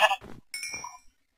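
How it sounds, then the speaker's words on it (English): A sheep in the Minecraft video game gives short, wavering bleats, clear and close, with brief gaps between calls and a soft clink near the start. "It's a sheep."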